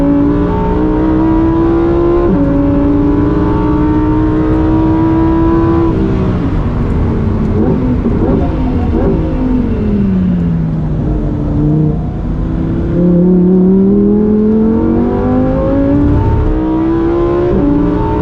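A 2023 Lamborghini Huracan Tecnica engine heard from inside while driving, a loud continuous tone that climbs in pitch as it revs, drops sharply at gear changes, dips and rises again.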